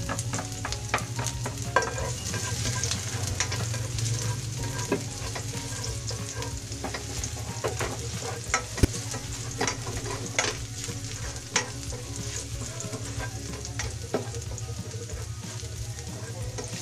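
Garlic frying in a pan for beef picadillo, a steady hissing sizzle broken by frequent clicks and scrapes of stirring, close and continuous with no voices.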